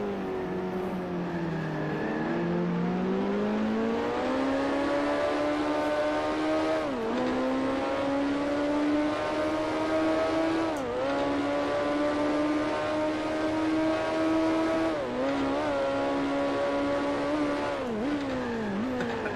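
A vintage Grand Prix racing car engine from the Grand Prix Legends sim roars loud and close throughout, pitch climbing through gears with brief dips at each shift, sustained and alone without voices.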